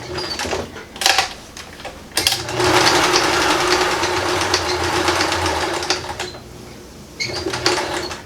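A sewing machine stitching a sling purse made from recycled jeans, running in bursts of rapid mechanical chatter with short pauses between, close and alone.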